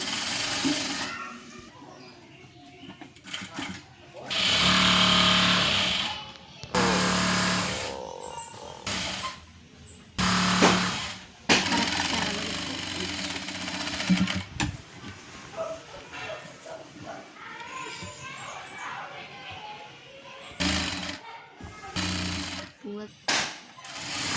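An electric sewing machine stitching a nightie runs in bursts of rapid mechanical chattering, close and fairly loud, starting and stopping repeatedly while someone talks in between and over the runs.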